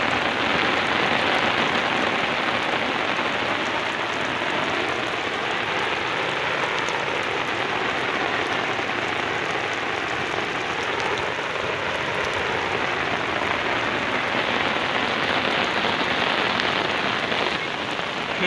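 Steady rain falling on open farm fields, a dense continuous hiss of drops that stays loud and even throughout, with no voices.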